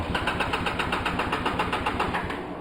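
A 2004 Polaris Sportsman 700 ATV engine idling roughly on choke with a carburetor boot problem, a close, steady, uneven chugging pulse that runs throughout and dips slightly at the end.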